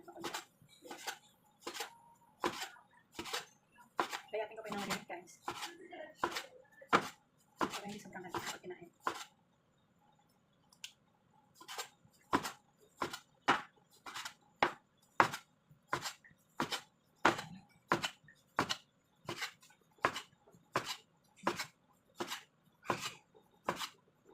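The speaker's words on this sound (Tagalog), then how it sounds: "Maghiwa na tayo ng ating karne guys." A knife chops lean meat on a cutting board in a steady, rapid series of close, crisp strikes, pausing briefly midway before resuming; a voice talks over the first stretch.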